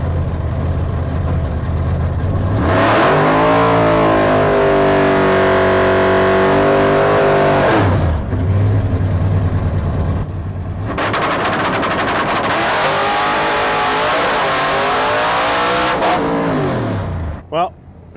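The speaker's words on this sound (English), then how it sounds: "My first quarter-mile pass with the rebuilt Hemi." Drag car with a rebuilt Hemi engine launching down a quarter-mile track, its loud engine roaring and climbing in pitch, dropping off briefly, then roaring again with harsh crackling before cutting out near the end.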